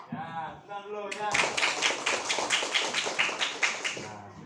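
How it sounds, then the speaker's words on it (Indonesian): Children in a classroom clap their hands together in a quick, rhythmic burst of claps following a teacher's spoken cue, the teacher's voice heard briefly at the start. "Ya, tepukan dulu ya."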